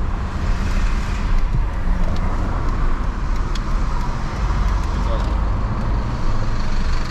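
A Mercedes V8 pulls hard at full throttle, a loud, steady low roar with road and wind rush from inside the moving car, and a voice speaking over it.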